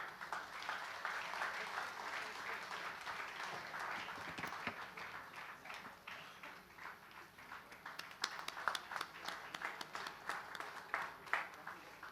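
Audience at a music tribute concert applauding an honoree, fairly faint sustained clapping with sharper individual claps rising toward the end, some voices murmuring underneath.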